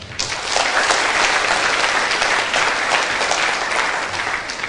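An audience at a Buddhist Dhamma talk bursts into applause, a dense, steady clapping that fills the whole stretch and fades slightly at the end.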